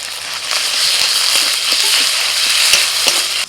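Cumin and dried red chili paste frying in a pan: a loud, constant hiss and crackle up close, broken by occasional stirring scrapes and spatter pops, cutting off abruptly at the end.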